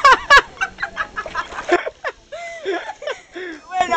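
A voice imitates a chicken with short repeated clucking calls, loud and close, mixed with Spanish speech.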